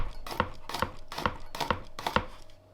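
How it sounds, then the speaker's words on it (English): A knife slices garlic thinly on a cutting board, giving five quick, evenly spaced chopping taps, close and fairly quiet. "I've got some garlic here. I just want to cut a few slices of that up."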